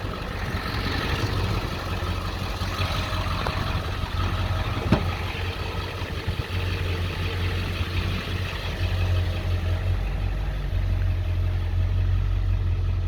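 A steady, low idle from a 7.3L diesel engine in a 2002 Ford F250 truck, rumbling continuously at close range, smooth and even throughout with no voices.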